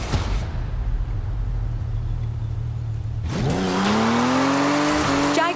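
A Jaguar in Forza Horizon 4 sits at a steady low idle hum, then its engine revs up sharply into a loud, rising acceleration whine as it pulls away.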